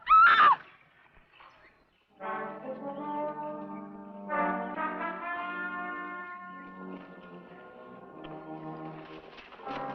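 A horse whinnies loudly and briefly at the start, followed by a pause and then sustained tonal sound, likely voices or music, filling the rest.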